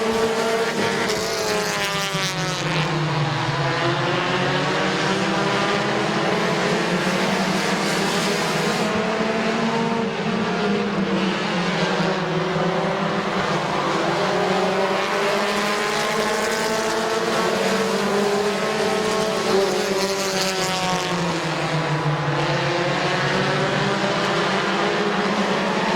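Compact race cars at Midvale Speedway roar past in a loud, sustained pack, engines rising and falling in pitch as they circle the oval, with no voices over the din.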